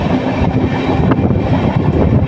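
A passenger train on the Guntur to Ernakulam line rolls along in a loud, steady rumble heard from inside the carriage, with no voices.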